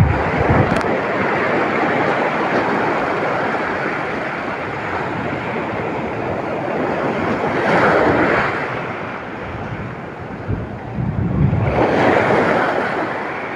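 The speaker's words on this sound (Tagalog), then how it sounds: "Lalaki ng alon kasi." Big sea waves and strong wind during rough-water fishing from a boat, a loud continuous roar of wind and water with heavy wave surges washing past near the end, close to the microphone.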